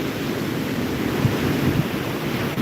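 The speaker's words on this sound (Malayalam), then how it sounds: "അങ്ങനെയുള്ള തിരയാണ് വരുന്നത്" Sea waves break on Vettukad beach as a constant broad rushing roar of surf, mixed with heavy wind buffeting on the microphone. The sound stays loud and steady without a distinct single crash, and no one speaks.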